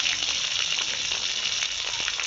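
Dry chillies sizzle loudly in hot mustard oil, a dense continuous hiss with small crackles, close and steady throughout.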